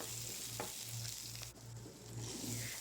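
Chopped ginger sautés in a hot pan with green chillies, giving a steady broadband sizzle with a few brief stirring clicks and no voices.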